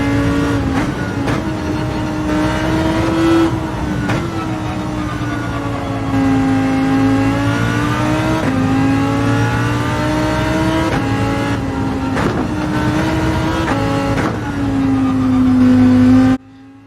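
A race car in Gran Turismo 7 laps the Suzuka circuit, its engine loud and close as it revs up through the gears, then drops with each shift in a repeating rise-and-fall pattern, cutting off at the end.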